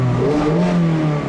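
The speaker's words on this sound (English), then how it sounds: "push the button to start up the engine" A 2016 Mazda MX-5 Miata's 2-liter Skyactiv four-cylinder engine rumbles up and rises in pitch as it catches and revs, close and loud, with a steady low hum.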